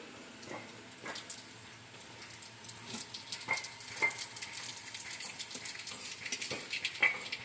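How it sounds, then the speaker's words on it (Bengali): Black cumin seeds sizzle in a little hot oil for a tempering, giving a quiet, crackling hiss with scattered small pops and a few faint clinks of a utensil. "এর মধ্যে দিয়ে দিচ্ছি কালো জিরে ফোড়ন"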